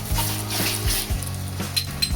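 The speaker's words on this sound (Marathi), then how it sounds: "कांदा चांगला परतून घेऊया" Onion and chicken keema masala frying in a pan, a soft sizzle with repeated scraping strokes of a spoon or spatula against the pan in an irregular stirring rhythm, close up and without speech.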